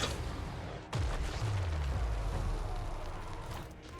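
A deep blast from a Chaos Dwarf nuclear artillery shot in Total War: Warhammer III booms out over a constant noisy rumble, followed by descending rumbling tones as the explosion rolls on.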